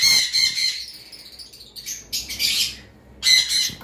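Blue conure parrots squawk in three sharp, shrill bursts separated by short gaps, loud and close, with no voices over them.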